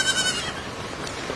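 A goat bleating sound effect, a short wavering cry near the start that trails into a rough, noisy tail, fairly loud and with no speech.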